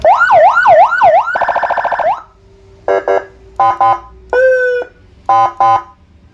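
A 200-watt Whelen-style patrol siren blares close and loud, cycling through a rising-falling wail and a fast yelp, then firing short choppy bursts separated by brief gaps.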